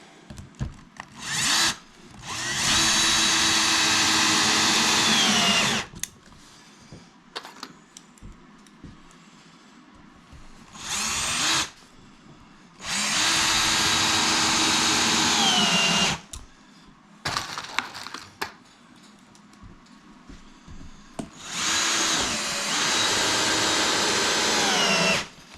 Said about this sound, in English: Pretty simple, just putting them together, run screws in.